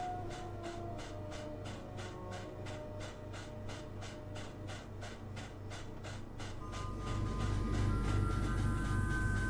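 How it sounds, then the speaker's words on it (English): A steady rhythmic clatter of train wheels over rail joints, a low rumble beneath that swells louder near the end. "The train I was on lurched forward again."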